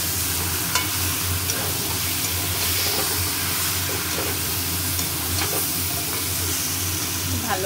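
Chicken pieces and potatoes sauté in a pan with a loud, continuous close sizzle, broken by repeated scraping stirs of a spatula throughout.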